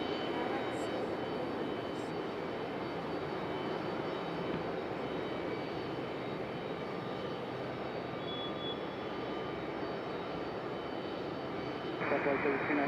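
A jet airliner approaching Raleigh-Durham International Airport gives a steady, broad engine roar that fills the whole clip at an even level. It sounds fairly close and holds constant, with slight added tonal whine.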